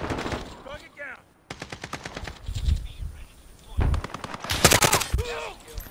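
Bursts of automatic gunfire in Call of Duty: Modern Warfare, rapid repeated shots in several volleys with brief pauses, some close and loud, mixed with game sound effects and faint voice.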